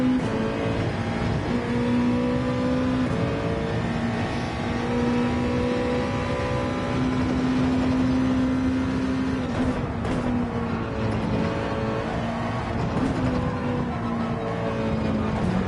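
Gr2 race cars lapping Suzuka in Gran Turismo with dynamic weather, engines droning loud and steady with rising and falling revs as the car slipstreams and shifts, continuous throughout with no talk.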